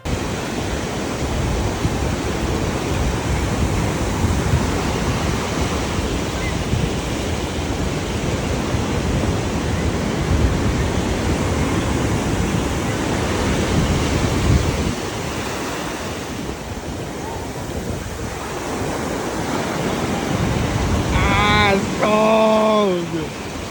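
Ocean waves wash onto a California beach in a loud, continuous roar of surf mixed with wind buffeting the microphone, easing briefly partway through before surging again; a voice can be heard near the end.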